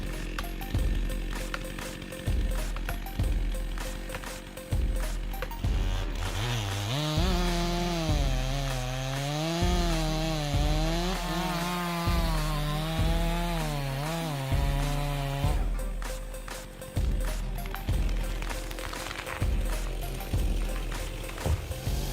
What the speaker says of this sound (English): The portability of chainsaws makes them able to operate anytime, anywhere, creating favorable conditions for logging during such snowy times.